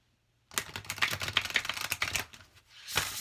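A deck of light, glossy tarot oracle cards shuffled horizontally, giving a close, quick run of papery flicking and riffling clicks that briefly pauses and then resumes.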